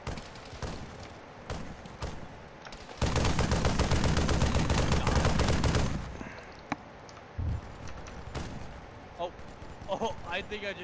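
Gunfire in the military shooter ArmA 3, with scattered sharp shots followed by a dense three-second burst of sustained automatic fire, then a few isolated reports and echoes amid background game noise.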